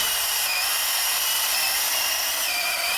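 Makita cordless power tool cutting while powered by a 20Ah backpack battery, a loud, even, high-pitched motor whine held close and unbroken for the whole stretch.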